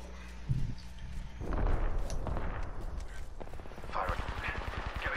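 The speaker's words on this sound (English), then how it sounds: "Firing. Getting shot at." Video game gunfire crackles through dense shooting and impacts, ending in a rapid automatic burst of closely spaced shots.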